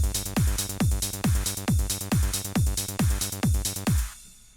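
A trance bass line with its quarter notes deleted, leaving a steady run of punchy offbeat synth bass pulses in an even loop that stops abruptly near the end.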